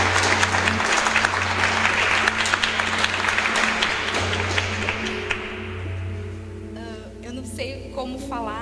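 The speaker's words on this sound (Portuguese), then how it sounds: "Pode aplaudir então, porque encontraram mesmo." Congregation applause fills a church, loud and sustained for about six seconds with organ or keyboard tones underneath, then fades as a voice begins speaking over lingering sustained music.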